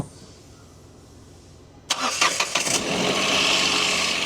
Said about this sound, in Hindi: तो हम इंजन स्टार्ट करेंगे